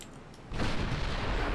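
Artillery triple column in the strategy game Tattered firing at once, a loud sustained barrage of booms that kicks in abruptly after half a second and rumbles on without pause.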